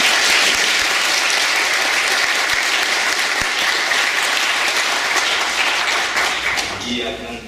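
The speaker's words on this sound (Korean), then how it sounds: "오늘 일이 생긴 김에 한번 저 오디오 비주얼들에게 박수 한번 감사드립니다" A church congregation gives sustained, dense applause for the audio-visual team, holding steady before tapering off at the end.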